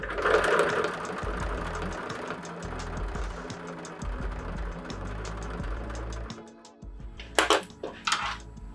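A sewing machine stitches a mesh bag onto a fabric book cover, a close, continuous rapid whirring that speeds and slows, then stops near the end before a few sharp clicks and rustles.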